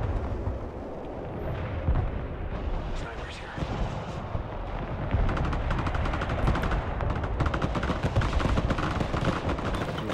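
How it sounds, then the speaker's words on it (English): Artillery and other heavy weapons fire in the war video game Broken Arrow as a dense, continuous barrage of booms and rapid gunfire, loud and sustained throughout. "Artillery ready to fire"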